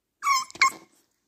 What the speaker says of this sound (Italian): Questo è il cane più bello del mondo.